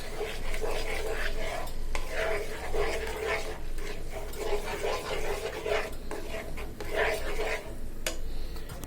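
A blended spice paste fries in oil in a kadai for a tomato fish bhuna, with steady close sizzling and constant scraping strokes of a spatula stirring it through.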